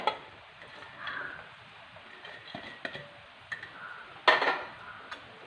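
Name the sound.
stirring yogurt and coriander in a bowl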